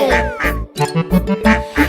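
A mother duck quacks in a cheerful children's song, a run of short nasal quack-like notes sung over bright music, most likely voiced imitations rather than a real bird.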